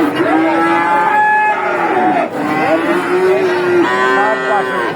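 A young heifer at a busy cattle market moos loudly and close, two long drawn-out calls one after the other with a short gap between them, standing out over the market.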